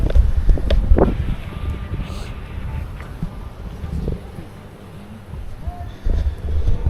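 Strong wind at an island resort in the Yasawa Islands, Fiji, buffets the microphone with a continuous low roar and gusty thumps, rising and falling across the clip with no voices.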